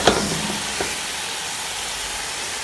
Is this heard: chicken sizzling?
yes